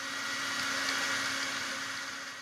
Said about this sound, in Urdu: لیمو کا رس ڈال کر اچھی طرح گرائنڈ کریں۔